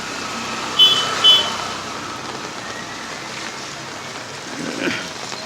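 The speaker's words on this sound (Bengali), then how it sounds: "প্রচণ্ড বৃষ্টি হচ্ছে" Steady rain hisses throughout, with a few faint tonal chirps early on and a soft passing swell near the end.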